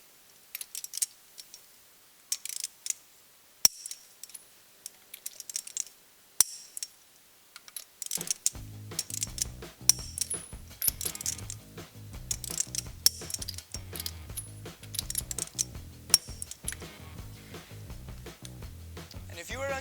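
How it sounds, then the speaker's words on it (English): A torque wrench tightens the lug nuts on a Jeep's Mickey Thompson wheel, ticking softly at first, then giving sharp ratcheting clicks in quick, uneven bursts at close range. "if you're unfamiliar with a torque wrench, you're just going to turn until it clicks"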